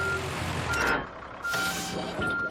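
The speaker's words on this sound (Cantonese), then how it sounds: "牛先生有一架巨型嘅轉地機" A giant cartoon digging machine on a hillside construction site emits steady, repeated reversing beeps over a rumbling engine, with brief louder bursts of machinery noise in between.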